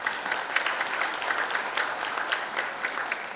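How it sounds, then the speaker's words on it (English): An audience claps at a Hindi cinema event, a dense, lively burst of applause with sharp individual hand claps standing out, sustained evenly throughout. "So a huge round of applause to all these films."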